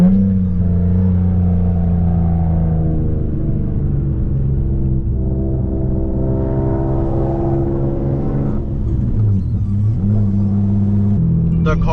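A Nissan Maxima engine with a swapped-in 6-speed manual gearbox drones and revs up through the gears, pitch climbing then dropping with shifts, loud and close, with a voice talking over it.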